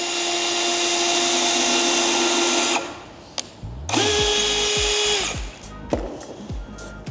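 A DEWALT power drill bores holes into a wooden pallet: a steady high motor whine runs for a few seconds, stops, then spins up again in a second burst before short taps and clunks follow.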